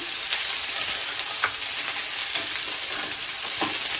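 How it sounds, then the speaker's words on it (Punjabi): Capsicum sizzles and crackles steadily in a hot pan for kadai paneer, with occasional stirring scrapes and small pops, fairly close and with no voices. "ਸ਼ਿਮਲਾ ਮਿਰਚ ਓਕੇ ਇਹਨਾਂ ਨੂੰ ਪਹਿਲਾਂ ਥੋੜਾ ਜਿਹਾ ਕਾੜ ਕੇ"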